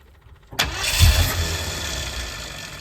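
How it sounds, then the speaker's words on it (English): A Ford 460 V8 catches on a cold start with a sudden burst, then settles into a loud, rough idle close by. "See what she'll do cold start."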